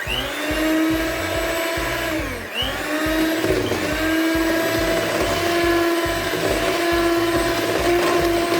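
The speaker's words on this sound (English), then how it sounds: "pour it in and the mixer will do the rest of it" An electric mixer whirs steadily through Jamaican black fruit cake batter, adding butter batter. The motor drones loud and close, with a brief dip in pitch as the load changes, then keeps a constant rumbling hum with no voices.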